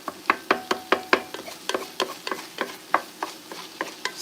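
Garlicky food stirred and scraped in a hot pan as it cooks down and dries out, with a steady run of sharp utensil scrapes and taps over a faint sizzle, close and fairly quiet.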